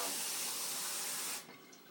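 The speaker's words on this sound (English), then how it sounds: "even though I poured the water right in" Water pours steadily into a glass as a loud hiss that fills most of the moment, then cuts off sharply and leaves a faint background.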